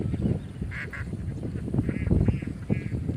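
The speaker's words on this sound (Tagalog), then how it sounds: "Kalaming itik yan." Domestic ducks kept for salted-egg laying quack repeatedly from close by, several overlapping calls in a noisy farmyard with no talking.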